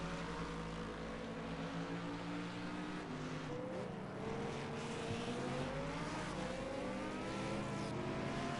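GT3 and GT4 race cars battle for position at the Zolder circuit, engines droning steadily with a rising, shifting pitch as they run close together, a continuous loud mechanical roar with no talk.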